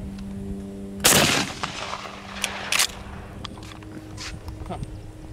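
A shotgun fires at a clay pigeon outdoors during practice shooting for duck season: one loud, sharp blast with a ringing tail, followed by a second, quieter report and some scattered handling clicks and rustles.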